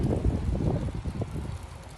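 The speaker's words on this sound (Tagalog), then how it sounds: "Mahangin na." Wind blowing outdoors at a car service shop in Canada, a steady rushing roar buffeting the microphone throughout, fairly loud and continuous with no voices.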